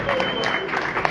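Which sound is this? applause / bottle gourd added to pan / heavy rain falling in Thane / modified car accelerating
applause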